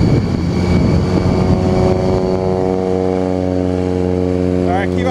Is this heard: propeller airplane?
yes